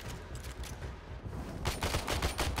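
Rapid pistol gunfire from the Warframe video game, a dense run of sharp shots that thickens toward the end, loud and close with no talking over it.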